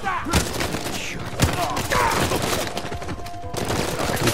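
Sniper gunfire in the video game Uncharted 4, several sharp shots and impacts amid steady in-game battle noise, with someone talking over it.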